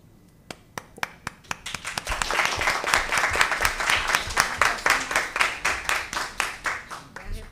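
A crowd at a police civil service committee meeting claps, beginning with a few scattered sharp claps and then falling into loud rhythmic unison clapping with evenly spaced beats over a dense bed of applause.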